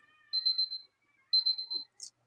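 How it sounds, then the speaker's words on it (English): Electronic beeping in the background, two short bursts of repeated high-pitched tones about a second apart, faint and steady with no talk over them. "I hear a beeping in the back"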